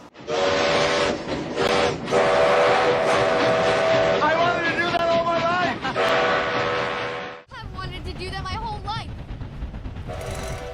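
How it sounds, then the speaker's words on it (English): A loud steam train whistle from the film Back to the Future Part III blares in long sustained tones, then a second shorter burst follows after a brief pause, with music or voices mixed underneath. "the moment that Doc blows the whistle on the train"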